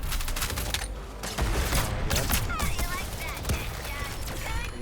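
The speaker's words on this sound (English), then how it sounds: "the Firefly assault rifle just rips through anything" Firefly assault rifle fire in a shooter video game, dense rapid bursts of automatic gunfire that run nearly continuously and loud, with other game effects layered in.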